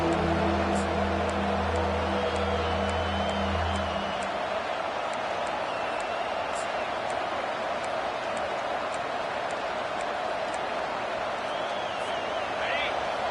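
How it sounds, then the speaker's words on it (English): A home crowd roars at a football game as the defense tries to get off the field on third down, a steady loud wash of cheering filling the stadium under a commentator's voice. "Here comes this home crowd as the defense tries to get off the field on 3rd down."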